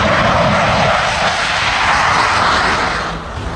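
Rafale fighter jet roaring overhead near Leh in Ladakh, a loud, steady broadband engine rush that fills the whole clip and eases slightly at the end.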